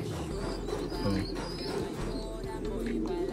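Pigeons coo softly and continuously in a coop, low murmuring calls under steady wind and background noise.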